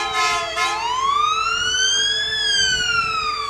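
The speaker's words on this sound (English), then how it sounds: "sirens can only mean one thing, Larry, another volunteer fire department." Fire truck siren in a parade, close and loud, rising in a long sweeping wail with a lingering steady tone and faint engine rumble beneath.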